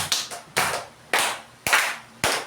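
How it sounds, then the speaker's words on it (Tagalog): Children in a classroom give five slow, evenly spaced group claps, each one a sharp burst with a short decay, fairly quiet with silence between them. "Bigyan din natin siya ng 5 palakpak."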